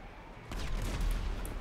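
Quiet bursts of rapid gunfire in GTA Online, a short volley of shots with a low thudding undertone, no talking.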